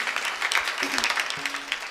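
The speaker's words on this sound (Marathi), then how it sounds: "जोरदार टाळ्या वाजवा त्यांच्यासाठी." A kirtan audience gives a short burst of clapping for the accompanying singers and percussionist. The applause is moderately loud, lasts about two seconds, and carries a faint tonal hum beneath it.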